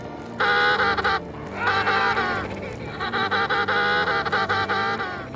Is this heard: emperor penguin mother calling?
yes